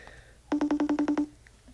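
Eight quick, evenly spaced telephone keypad tones beep in a row as a number is dialed, loud and clear against a quiet background.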